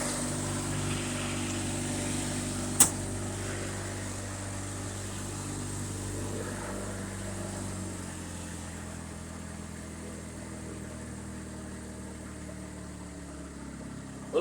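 A Honda lawn tractor engine idles low and steady, a continuous rumbling hum with a faint vibration, one sharp click early on.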